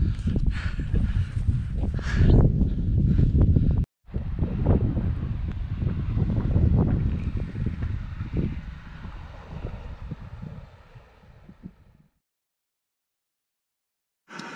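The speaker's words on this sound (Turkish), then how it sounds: "İyi de rüzgar var." Strong mountain wind at a campsite in the Kaçkar Mountains buffets the microphone with a heavy, rumbling roar that gusts unevenly, briefly cuts out, then dies away into silence.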